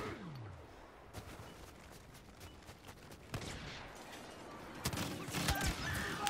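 Blaster fire in the Xbox game Star Wars Battlefront: repeated sharp shots and rapid bursts over a dense battle backdrop, with louder volleys toward the end and no voices.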